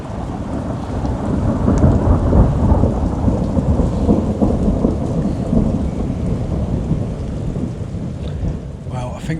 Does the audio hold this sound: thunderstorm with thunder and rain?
yes